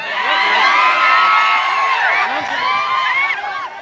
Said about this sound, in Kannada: ಒಂದು ಜೋರಾದ ಚಪ್ಪಾಳೆ ತಟ್ಟೆ ಅವ್ರನ್ನ ವೇದಿಕೆ ಮೇಲೆ.